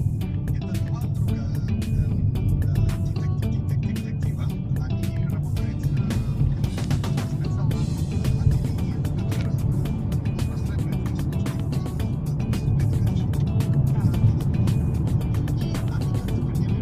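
A car driving along Maxim Gorky Street in an old town, a steady moderate engine and road rumble heard from inside the vehicle with occasional clicks.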